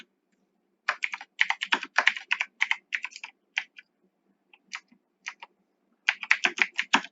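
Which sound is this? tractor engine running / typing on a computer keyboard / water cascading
typing on a computer keyboard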